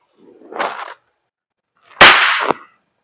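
A WE Glock 35 Gen 4 airsoft gas blowback pistol fires two sharp, loud close shots about a second and a half apart, each with a brief snap of the slide, in an otherwise silent room.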